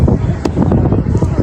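Wind buffets the microphone on an open cruise ship deck in Puerto Rico, a steady loud roar with gusty rumble throughout the short moment.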